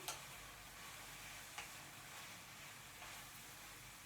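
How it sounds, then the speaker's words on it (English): Mushrooms and leeks cook down in a pan with a steady, quiet sizzle and faint crackle, a couple of small clicks standing out over the continuous frying hiss. "So we've got mushrooms and leeks cooking down"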